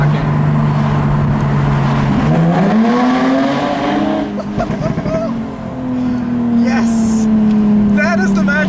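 A 2016 Jaguar F-Type V6 convertible drives through a tunnel, its engine droning loud and close, rising in pitch as it accelerates and shifts, echoing off the walls, with no one talking.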